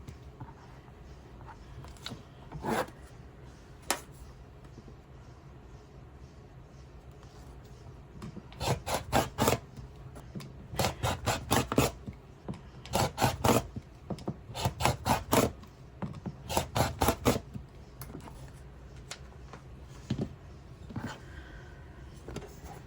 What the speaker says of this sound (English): Alright, I have my layer cake cut in half.